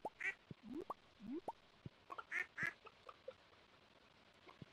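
Ducks in the farming video game Stardew Valley let out short, clear quacks, several in quick succession, mixed with small plopping and bouncy game sound effects against a quiet background.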